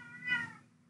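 A pet cat gives a single short, close meow that rises and fades within a second against a quiet low hum.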